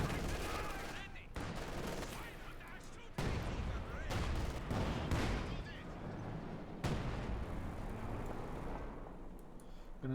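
Field artillery bombardment in the World War II strategy game Company of Heroes 2, with a continuous barrage of heavy shell blasts and gunfire rumbling at full intensity for ten seconds, occasional voices faintly mixed in.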